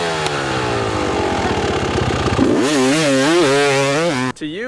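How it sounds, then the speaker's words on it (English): A loud engine idles roughly, then revs up hard with its pitch rising and falling in surges, close by, before cutting briefly at the end. "revving harder than Ronnie Mac on a 2-stroke CR."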